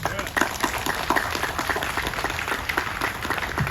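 A crowd claps steadily at close range for a few seconds, with many hands beating in a dense patter and talk mixed underneath.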